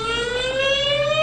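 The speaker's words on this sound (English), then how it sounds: "These 15 sirens, all at low-lying areas, would warn the public of an imminent threat." Civil defense warning sirens on Guam wail as a steady, sustained tone with rich layered harmonics, loud and continuous with no pauses.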